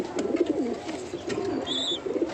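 A pair of desi gulla pigeons coos softly in repeated low, rolling calls, close by and fairly quiet against faint background noise.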